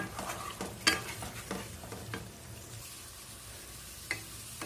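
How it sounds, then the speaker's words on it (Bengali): Ground spice paste sautéing in a pan for a spicy Bengali pomfret dish, with a steady soft sizzle and irregular scraping stirs, one sharper clink of the spatula near the start and another toward the end. "ভালো করে মশলাটা কষিয়ে নেব"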